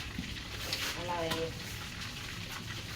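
Thai battered soup-flour fritters frying in hot oil, a steady close sizzle running throughout with a brief crackle and some stirring noise in the middle.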